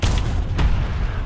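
Tank cannon fired in War Thunder, a heavy, booming blast that rolls on through the whole moment, with a second thump soon after the first, loud and close.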